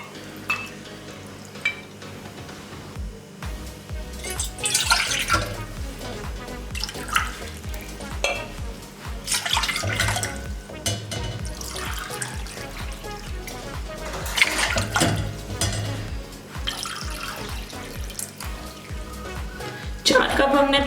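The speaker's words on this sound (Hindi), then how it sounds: "अब इसमें 4 कप पानी ऐड करेंगे" Water is poured into a cooking pot for Kashmiri pink tea, a trickling, splashing pour with some clatter of the pot and a voice talking over it.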